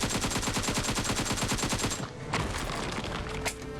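A loud burst of rapid automatic gunfire in PUBG Mobile hammers in an even rhythm for about two seconds, then gives way to scattered further shots and game noise.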